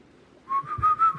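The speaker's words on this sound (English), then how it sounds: "All of the whistles now, they were going in different melodies, and they now all just seem to be ascending up to a certain point over and over again" A run of whistles after a quiet start, each one sliding upward to about the same pitch and repeating over and over, moderately loud and alone in an eerie night setting.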